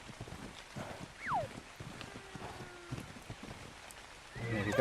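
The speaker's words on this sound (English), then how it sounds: "I'm breaking a horse." Stallion being tamed in the video game ARK, quiet hoof clops and a faint whinny amid soft ambient noise, followed by a louder rustling burst at the end.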